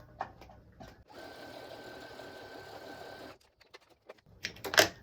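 A sewing machine stitching pieces of a layer-cake quilt, one steady close whirring run of about two seconds, set between quiet handling clicks and fabric rustles.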